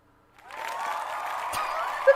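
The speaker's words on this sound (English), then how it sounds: "I also forgot the yay crowd cheering noise" A soundboard crowd-cheering effect plays during an animation contest livestream: a sustained swell of cheering and applause rises quickly and holds steady, with no talk over it.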